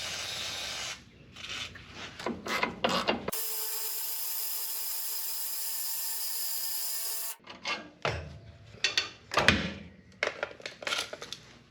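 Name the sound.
ratchet tightening nuts on truck air bag bracket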